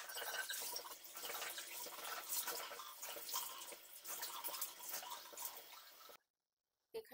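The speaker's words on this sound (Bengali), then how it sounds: "হাত মুখ ধুচ্ছি বা উজু করছি" Tap water runs and splashes steadily in a sink as hands and face are washed for wudu. The hiss is close and continuous, then cuts off abruptly near the end.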